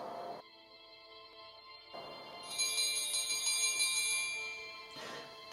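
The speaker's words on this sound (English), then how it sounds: "The ringing of a bell calls everyone to this evening's meal." A dinner bell rings to call guests to the evening meal in the Mansions of Madness board game app, a bright chiming burst over a quiet tonal ambient background, fairly faint and heard alone.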